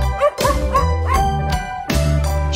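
A dog barks and yips over and over inside a bouncy Swedish children's song about going to market to buy a white dog, the barks loud and rhythmic, mixed in with the music.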